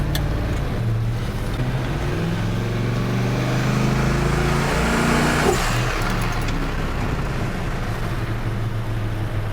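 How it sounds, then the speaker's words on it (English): A car with a turbocharger drives with a low, steady engine drone from inside the cabin, and a brief rising whoosh about midway could be the blow-off valve releasing. "That blow-off valve sounds weird now."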